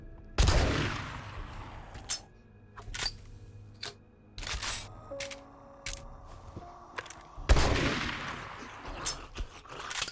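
Gunfire in the zombie survival video game 7 Days To Die: several sharp, loud shots and short bursts ring out at irregular intervals, with quieter in-game clicks and clatter between them and no talk.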